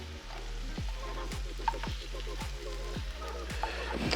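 Pork frying in a pan for an omelette while a utensil breaks it up, a soft, close sizzle with regular scraping strokes about every half second.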